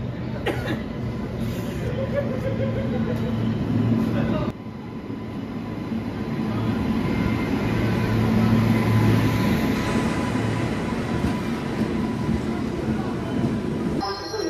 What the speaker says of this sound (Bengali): সো গাইস, আমাদের ট্রেন এসে গেছে, আমরা এবার চেপে যাব।